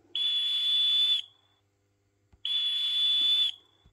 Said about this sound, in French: J'allume d'abord le sifflet chef de gare pour voir.